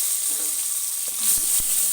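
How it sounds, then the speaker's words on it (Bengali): Chopped tomatoes sizzle in hot spice tempering for moong dal, a steady close frying hiss with a couple of soft stirring knocks. "এবার একটা ছোটো সাইজের টমেটো কুচি করে কেটে রেখেছিলাম, টমেটো কুচি দিয়ে দিচ্ছি।"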